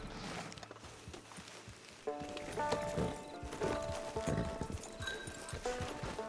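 A horse in the game Red Dead Online walking along, hooves clip-clopping in an uneven rhythm close by, with harness jingles and soft ambient game sound.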